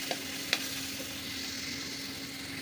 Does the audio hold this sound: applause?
no